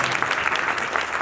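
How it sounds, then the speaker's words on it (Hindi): An audience claps at a church-style gathering, a dense, steady wash of applause that stays loud and even throughout the short stretch, with no voices standing out above it. "तालियां बजा लो।"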